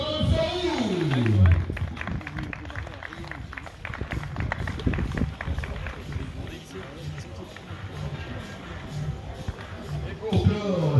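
An outdoor crowd applauds cyclist Jean-Marc Sarrou, French champion, at the Coupe de France XCO 2021 cross-country mountain bike race in Marseille. Steady clapping runs throughout beneath an announcer's voice.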